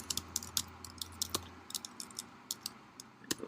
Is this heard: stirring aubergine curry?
no